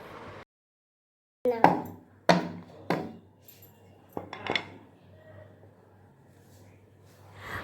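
Paratha dough being rolled out on a board with a rolling pin, giving a few sharp knocks and clinks followed by softer, quieter rolling scrapes, close up with no talking.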